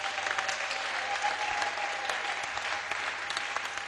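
A church congregation applauds in praise during a French-language sermon, a sustained crowd of clapping hands that carries evenly throughout, moderately loud with a faint hum underneath.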